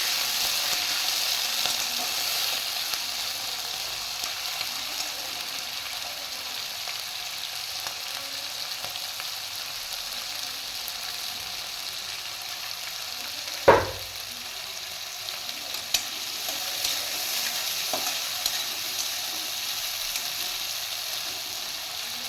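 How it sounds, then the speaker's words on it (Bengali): Prawns fry and get stirred in a pan of hot oil with tempered spices, ahead of adding ash gourd and ridge gourd for a curry, giving a steady close sizzle with one sharp scrape or clatter midway and faint stirring knocks. "এর মধ্যে আমি চিংড়ি মাছগুলো দিয়ে দিচ্ছি। নাড়াচাড়া করে নিচ্ছি।"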